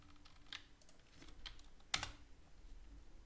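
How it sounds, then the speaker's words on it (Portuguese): Keys clacking on a computer keyboard while code is entered, a few quiet scattered keystrokes with one sharper double press near the end, close and soft, no voices. "Para compilar, a gente digita esse código."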